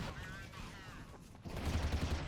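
Gunfire in the video game Counter-Strike: a run of rapid, loud shots in the second half after quieter game sounds and some faint talk early on.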